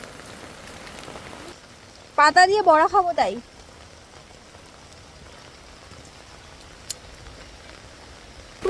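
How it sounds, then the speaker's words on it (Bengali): Heavy rain pours down in a steady, loud hiss on surrounding surfaces; partway through a voice speaks briefly over it. "প্রচণ্ড বৃষ্টি হচ্ছে"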